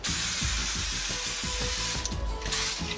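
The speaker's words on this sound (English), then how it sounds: "coat it with cooking spray so that the granola doesn't stick to the bottom of it" Cooking spray hisses onto a pan in a continuous spray for about two seconds, then a brief pause and another short burst, close up and fairly loud.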